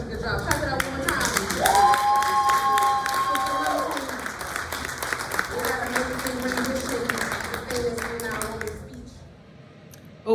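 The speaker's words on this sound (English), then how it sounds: "Clap it up one more time" Audience at an open mic night claps loudly and steadily for several seconds, with a few voices and whoops mixed in before the applause tapers off.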